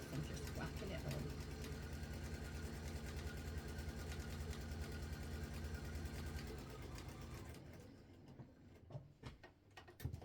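A Bernina sewing machine stitches a fabric strip in a steady, fast mechanical whir that runs for most of the stretch, then stops, leaving a few soft handling clicks and taps.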